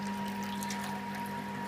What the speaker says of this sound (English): just a trickle coming out